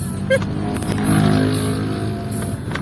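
A car on a busy road in Bekasi, heard as a continuous engine and road hum that swells a little partway through, with other traffic noise mixed in and no talk.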